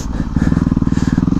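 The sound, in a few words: dual-sport motorcycle riding through woods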